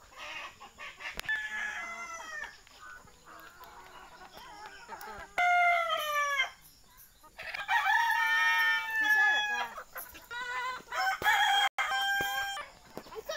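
Sonali desi chickens cluck in bursts on a poultry farm while a rooster crows several times nearby, with occasional faint voices in the background.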